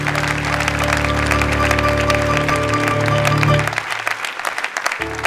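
A church congregation applauds and praises the Lord during a sermon, with loud sustained clapping over organ or keyboard tones that fades after a few seconds into lighter claps.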